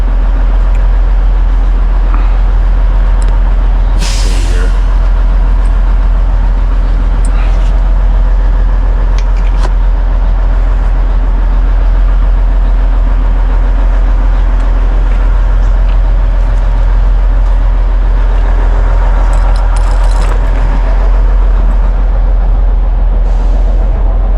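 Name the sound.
truck engine running a little rough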